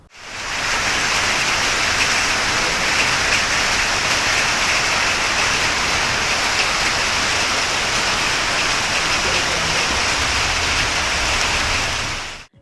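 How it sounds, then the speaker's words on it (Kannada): A steady downpour of rain falls in Gokarna, producing a dense, even hiss that stays loud and unbroken throughout, with no voices. "ಗೋಕರ್ಣದಲ್ಲಿ ಗುರುವಾರದಂದು ಗುಡುಗಿನೊಂದಿಗೆ ಮಳೆಯ ಸಿಂಚನವಾಗಿದ್ದು ಬಿಸಿಲಿನ ಬೇಗೆಯಲ್ಲಿದ್ದವರಿಗೆ ತುಸು ತಂಪೆರೆದಿದೆ."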